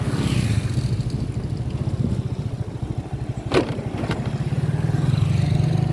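A motorcycle rides along a river dam, its engine droning steadily close by with a brief clatter midway, no voices over it.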